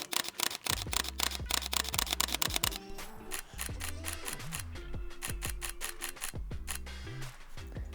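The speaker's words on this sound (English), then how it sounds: "The shutter sound of the Lumix S5 is actually quite loud." A burst of rapid Panasonic Lumix S5 camera shutter clicks, followed by a few more scattered clicks over a soft musical background.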